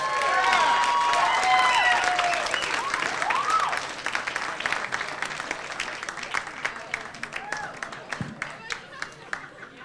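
A comedy club audience at Caroline's in New York City applauds to welcome a comedian, loud sustained clapping mixed with cheering for about four seconds, then thinning into scattered claps and crowd murmur.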